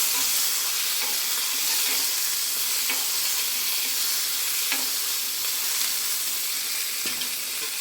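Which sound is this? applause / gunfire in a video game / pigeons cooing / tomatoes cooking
tomatoes cooking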